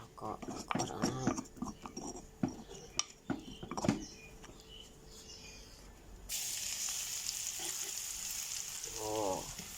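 Turmeric powder and oil sizzle in a pan while being stirred for an eel dish, the fry turning into a loud steady hiss partway through, with a voice talking and scattered clatter earlier.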